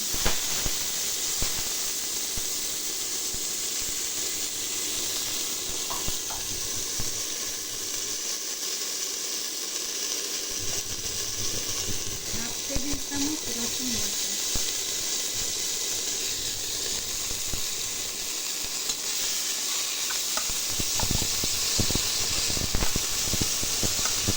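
Onion paste sizzling in hot oil in a pan while a spinach and fish curry is cooked, a steady broad hiss lasting throughout with faint crackles and no talking.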